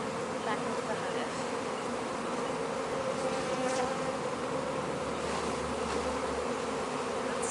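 A whole colony of honey bees being shaken out onto a cloth from a Taranov split hive, giving a dense, loud, continuous buzzing swarm drone close by, unbroken throughout.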